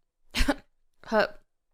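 Two short throaty bursts, a cough followed by a second rougher one, close and fairly loud against silence.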